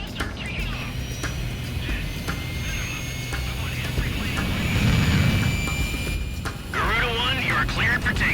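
Jet fighter engines spooling up for takeoff in the flight combat game Ace Combat, a steady loud roar that swells partway through, with radio voices talking over it.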